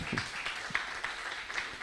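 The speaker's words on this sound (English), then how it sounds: "I congratulate please a better applause." An audience applauds at a university research grant awards ceremony, steady diffuse clapping from a hall crowd heard at a distance, fairly faint and even throughout.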